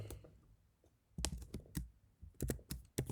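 Computer keyboard clicking as Python code is typed, with quiet, irregular keystrokes that come in small clusters and gaps, close and alone without speech.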